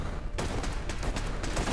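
A turret in Fallout 4: Far Harbor fires a rapid burst of loud gunshots that runs continuously through most of the short moment.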